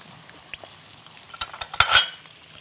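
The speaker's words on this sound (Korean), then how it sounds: "자, 조금 끓으려고 그럴 때 새우 넣겠습니다" Shrimp dropped into hot oil in a pan for Spanish gambas: faint sizzling builds to a louder crackling hiss near the end, with light scraping and clinks of a utensil against the pan, close and without talk.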